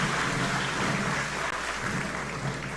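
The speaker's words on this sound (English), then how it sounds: "Please, a round of applause for the Belize Defense Force Band and our officers of the Police Department and the Belize Defense Force." An audience applauds the Belize Defense Force Band at a state address ceremony, a steady, dense wash of clapping that fills the whole stretch.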